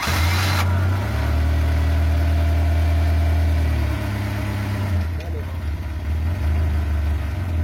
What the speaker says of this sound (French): Bon, on va essayer de le démarrer.